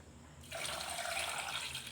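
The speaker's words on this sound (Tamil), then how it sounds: "இப்போது இதில் வந்து கரைச்சி வச்சுருக்க புளி தண்ணியை நம்ம ஊற்றிக்கலாம்" Tamarind water being poured into a pot for tomato rasam, a steady close splashing pour that starts after a brief quiet moment and runs on without pause, with no talking.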